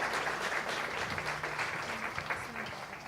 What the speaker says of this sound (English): Please, a great round of applause for them.